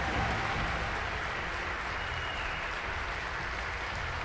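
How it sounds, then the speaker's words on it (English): Large crowd applauding and cheering at a Dota 2 International tournament arena, a steady dense wash of clapping and roar held loud and even throughout with no talk over it. "Crowd appreciating that."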